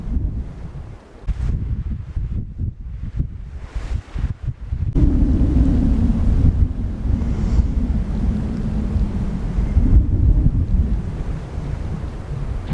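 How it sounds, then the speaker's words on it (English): Strong outdoor wind ahead of a cold front, roaring steadily and loudly against the microphone in gusts that fill the whole clip, with no voices. "All of this wind is blowing in a cold front that is supposed to bring below freezing temperatures tonight."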